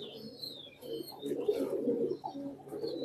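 Pigeons in a loft in Mirpur give soft, low cooing calls, layered and continuous, with a few higher chirps and faint background rustle, fairly quiet and close.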